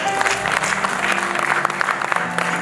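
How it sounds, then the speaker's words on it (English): Church congregation clapping at a Thanksgiving Sunday service, a busy continuous patter of many hands with musical tones mixed in, moderately loud and sustained. "give Lord a clap for Papa's life"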